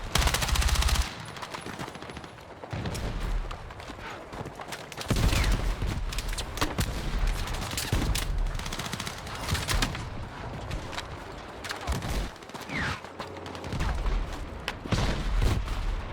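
Sustained gunfire from the video game Battlefield 6: rapid machine-gun bursts and sharp individual shots cut through heavy booms, coming in uneven waves of fire that stay loud throughout with no talking.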